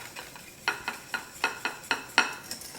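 Spoon stirring Kahlua coffee pie mixture in a bowl set over ice, about eight distinct scraping strokes in a steady rhythm, close and fairly quiet with no talk.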